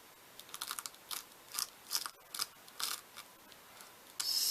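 Spatula scraping excess white glitter gel across a stencil, a series of short, close, gritty scrapes in an irregular rhythm with brief pauses between strokes and a longer scrape at the end, no talking.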